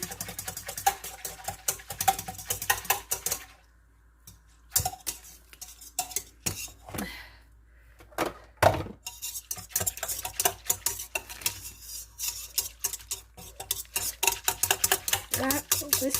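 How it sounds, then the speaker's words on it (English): Ingredients for Greek horiatiko bread being stirred in a bowl, rapid clattering utensil strokes against the bowl in bursts with a brief quiet pause midway, close by, with no talking. "Just mix all that in there."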